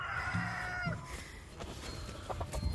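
Chickens in a hen house cluck and call, with a rooster-like crow at the start, followed by scattered clucks and rustling nearby.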